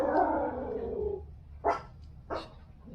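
Two short, sharp barks from a female dog in a dark yard at night, following a longer dull rumbling sound; moderately near, over low background noise, with no talking.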